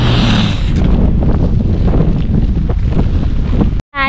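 Strong wind roars steadily across the microphone on a mountain trail climbing toward the Martial Glacier at the southern tip of the world, a loud, constant gusty rumble that cuts out abruptly near the end.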